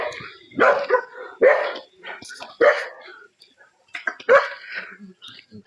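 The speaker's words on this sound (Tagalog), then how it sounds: "Ay, maraming aso." Several dogs barking in repeated sharp bursts close by, with people talking in between and over the barks.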